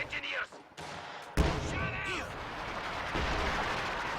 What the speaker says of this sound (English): Pack howitzer fires